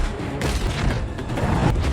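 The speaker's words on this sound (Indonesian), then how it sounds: "Neytiri kemudian memanah beberapa tanker yang akhirnya memicu ledakan besar." Tankers blowing up in a big explosion in the film Avatar: Fire and Ash make a dense, roaring boom that rumbles on loudly and continuously, with crackling blasts layered through it.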